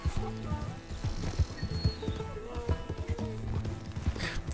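A donkey painted to look like a zebra walks in Red Dead Redemption 2, its hooves clip-clopping steadily over a continuous game soundscape with low tonal background music.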